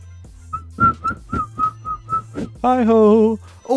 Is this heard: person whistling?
yes